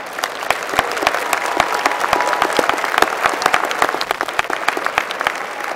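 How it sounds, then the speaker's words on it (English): New graduates at a winter 2017 engineering school commencement applaud themselves, a large crowd clapping steadily with crisp individual claps standing out over the continuous wash. "Congratulations to our new graduates. Give yourself a round of applause."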